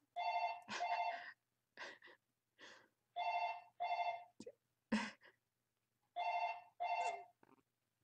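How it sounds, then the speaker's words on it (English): A phone ringing in short repeated tones, with a voice announcing the caller aloud between the rings, clear and close in a quiet room. "my phone can tell me who's calling out aloud"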